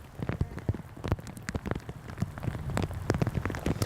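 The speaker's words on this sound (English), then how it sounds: "And we caught a downpour in Roseville this morning." Heavy rain downpour in Roseville, dense drops pattering and splashing on hard surfaces, a close steady hiss with crisp individual impacts, no voices.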